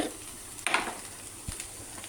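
Roasted ground chili powder is stirred into a frying pan, giving a couple of soft, close scrapes and taps over a faint, low sizzle.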